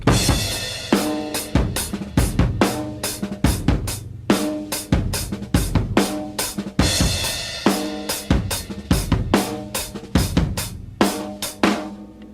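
Dry, unreverberated rock drum beat in the style of a well-known rock song, with steady kick, snare and cymbal hits repeating in a heavy, slow groove, loud and close with no talking.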